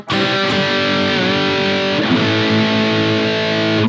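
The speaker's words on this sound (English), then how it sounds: "Saturated high gain tone, no low cut or high cut here applied." A saturated, high-gain distorted electric guitar through a Fractal amp modeler, dry with no low or high cut, rings out with sustained chords, thick and loud, with a brief re-strike partway through and no voices.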